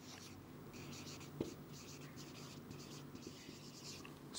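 Pen writing on paper, a steady soft scratching that runs under quiet room noise throughout, with a tiny tap partway through.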